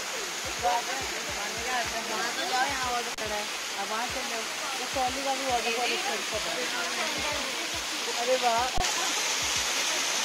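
Water from a waterfall at Nainital rushes in a steady, broad hiss across the whole stretch, while several people chatter and exclaim nearby over it.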